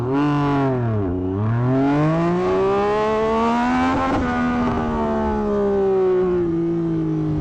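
A dyno-tuned 2024 Yamaha MT-09SP accelerates hard from standstill toward 100, its engine note rising loud and close, dipping briefly at a gear shift and then climbing again through the gears.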